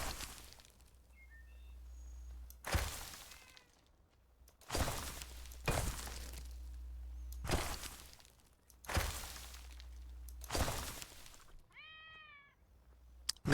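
A cat in the game Enshrouded meows repeatedly, about six clear calls spaced a couple of seconds apart over a low steady background hum, with faint chirps in between.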